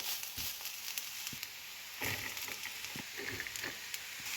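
Beans stir-fry with coconut paste in hot oil for a Kerala-style carrot and bean thoran, a steady close sizzle broken by a few soft scrapes and knocks of stirring, with no talking.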